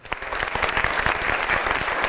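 A short burst of applause for a contestant on a street game show in Mingachevir, close and fairly loud, steady clapping with no talk over it.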